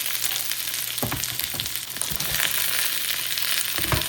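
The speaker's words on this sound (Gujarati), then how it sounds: "હવે એમાં નાખી દઈએ બધું, ડુંગળી લસણ ને બધું જ નાખી દેવાનું." Onion and garlic fry in hot oil for paneer butter masala, giving a constant close sizzle with occasional stirring clicks and scrapes and no speech.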